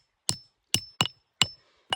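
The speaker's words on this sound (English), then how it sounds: "With these stakes, I go ahead and I really hammer them all the way in" A tarp stake is driven into the ground with a hatchet or wooden baton for a campfire shelter: five sharp, distinct knocks, crisp and close, spaced irregularly with quiet gaps between.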